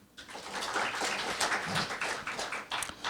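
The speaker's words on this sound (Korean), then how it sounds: "박수로 진행해 주시기 바랍니다." An audience at an academic intellectual-property conference applauds with dense, continuous clapping that swells and holds steady for about three seconds, heard from within the hall.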